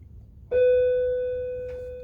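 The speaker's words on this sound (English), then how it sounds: "Oh, there's the bell." A school bell rings once in a classroom, a sudden clear electronic tone that holds and slowly fades, with a faint second strike near the end; no talking during it.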